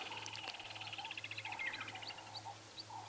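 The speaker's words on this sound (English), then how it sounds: "You can hear the blacksmith lapwings are also going." Blacksmith lapwings call in the wild during a sunrise safari drive, a series of faint, sharp metallic clicks and chips repeating in quick rhythm at some distance over a low background hum.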